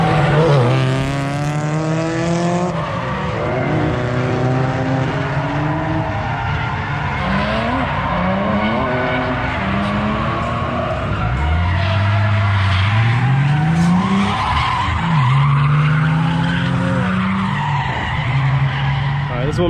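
Drift cars at a Friday night drift event at Lanier Raceplex, with loud, continuous engine revving that rises and falls and long stretches of tire squeal and skidding, close and busy with overlapping passes.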